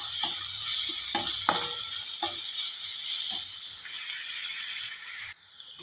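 Chopped onions sauté in a hot pan for a bitter gourd dish, giving a steady, close hiss of frying with a few soft stirring clicks, until the sizzle drops away abruptly near the end.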